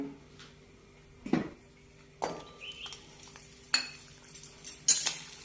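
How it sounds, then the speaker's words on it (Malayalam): Green chillies and garlic sautéing in a little oil for sesame chutney, with a few separate scraping stirs and clinks of a spoon against the pan over a quiet, soft sizzle. "ഈ സമയം കൊണ്ട് നമുക്ക് പച്ചമുളകും വെളുത്തുള്ളി ഒന്ന് വഴറ്റിയെടുക്കാം"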